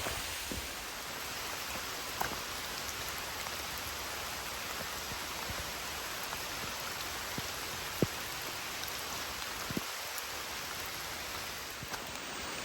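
Rain falls steadily along the Appalachian Trail as a soft, even hiss, broken by scattered individual drop taps, quiet and continuous with no voices.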